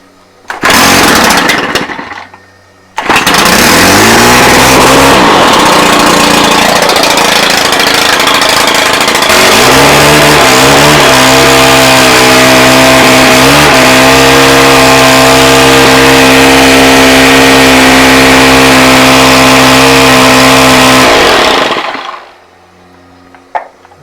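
A Stihl combi unit with a no-power fault is pull-started, catching briefly, then roaring loudly into a sustained buzzy two-stroke rev that holds with some pitch shifts for nearly twenty seconds before dying out.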